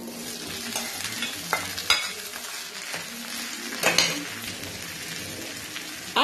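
Pre-boiled, salted chickpeas sizzle in a pan as a spoon stirs them, with scattered scraping clicks and occasional louder knocks over a constant crackling fry, close and moderately loud.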